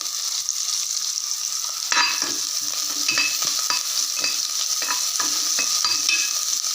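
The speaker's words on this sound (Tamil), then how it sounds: "வெங்காயம் வதங்கினா போதும்" Onions sauté in oil, giving a continuous bright sizzle with intermittent clinks and scrapes of a utensil stirring the pan.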